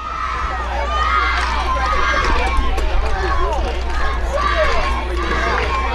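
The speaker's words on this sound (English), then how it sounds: "Okay, they're doing a cheer." Cheerleaders lead a chant at a high school football game between Mesabi East and Chisholm, with a crowd of shouting voices and cheering heard over a steady low hum and nearby commentary talk.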